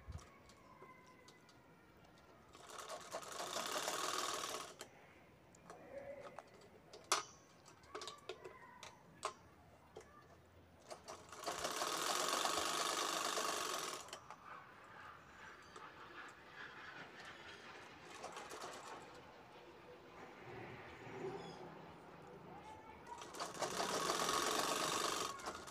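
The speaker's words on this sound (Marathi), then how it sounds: "त्याला साईड शिलाई घेते मी" A sewing machine stitches the side seam of a cloth bag in three long, fairly loud runs, separated by quieter stretches of clicks and handling of the fabric.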